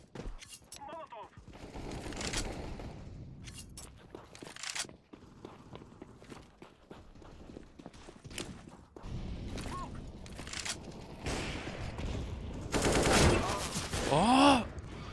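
Enemy gunfire in a first-person video game shooter, with bursts of automatic shots and scattered single cracks mixed with footsteps, grenades and in-game clatter across a busy match, louder near the end.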